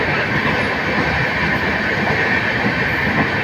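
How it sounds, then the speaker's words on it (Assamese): A train rolls over the Bogibeel bridge, its wheels and carriages giving a loud, steady rumbling roar with faint rhythmic clatter, heard close from on board and continuous throughout. "আৰু তলে আমি ট্ৰেইনেৰে গুচি আহিম"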